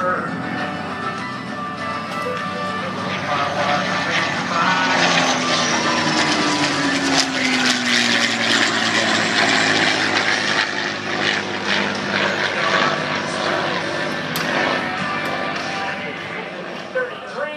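At an air show, a T-33 jet and a P-51 Mustang pass by, and their loud engine and propeller roar swells and holds as they go over. An announcer talks over the noise.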